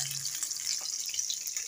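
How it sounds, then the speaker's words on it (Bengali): Fish sizzle steadily as they fry in a pan in a home kitchen. The hiss is soft and constant with faint crackles and no talking. "মাছ ভাজা হচ্ছে বন্ধুরা"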